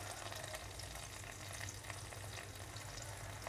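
Whole garam masala spices and chopped onions fry in the hot oil left from frying chicken for morog polao, giving a loud, steady, continuous sizzle throughout with no talking.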